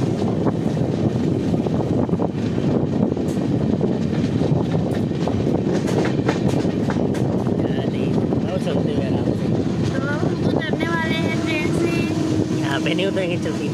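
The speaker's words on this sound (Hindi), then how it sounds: "सामने हमारी ट्रेन खड़ी है, सामने ही कोच है।" Passenger train No. 12652 bound for Rameshwaram gives a loud, steady rumble and clatter that runs the whole way, with people talking over it and a faint tonal whine toward the end.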